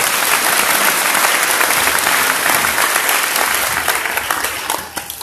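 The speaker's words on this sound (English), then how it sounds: "Let's give them a round of applause." A crowd at a school district meeting breaks into loud, sustained applause for the school board, a thick wash of clapping that holds steady and then tapers off into a few scattered claps.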